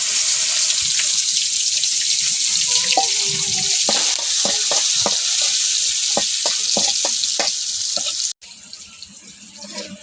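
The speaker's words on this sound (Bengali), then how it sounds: "মাছ ভাজার তেলের মধ্যে এখন আমি পেঁয়াজগুলো ভেজে নিলাম।" Onions frying in leftover fish-frying oil, a steady loud sizzle filling the whole stretch with scattered crackles and pops, dropping abruptly to a quieter hiss near the end.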